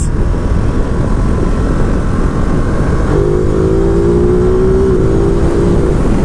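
A 2019 Ducati Multistrada 950 S engine on a test ride drones under loud, constant wind rush, with a steady tone appearing midway and climbing slightly as the bike pulls.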